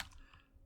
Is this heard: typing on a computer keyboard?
yes